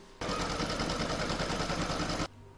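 An embroidery machine stitching an outline on hooped stabilizer, a loud, fast, steady mechanical whirring with a rapid stitching pulse that starts abruptly and runs for about two seconds before stopping cleanly.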